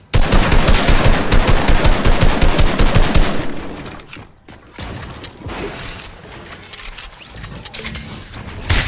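Gunfire in a shooter video game: a loud rapid burst of automatic fire for about three seconds, then quieter scattered shots and clatter, with a final sharp crack.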